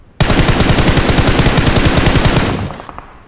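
Loud sustained automatic gunfire in a shooting video game, one long burst of rapid rhythmic shots that starts abruptly and runs for about two and a half seconds before cutting off, with no voices.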